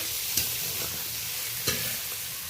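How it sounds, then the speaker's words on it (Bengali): Shrimp frying with onion and green chili in a pan, a soft steady sizzle with two brief scraping knocks of a spoon against the pan. "পেঁয়াজ আর কাঁচা লঙ্কার সাথে চিংড়িটা বেশ ভালোভাবে ভেজে রেখে"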